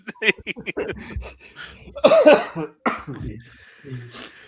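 A person coughs a few times in sharp bursts, mixed in with nearby talking and throat sounds.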